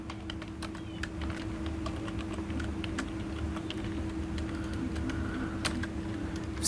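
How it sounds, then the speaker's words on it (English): Computer keyboard keys tapped in a quiet room as PowerShell is typed into the Windows 11 search box, a steady run of light, close clicks over a low hum. "typing PowerShell."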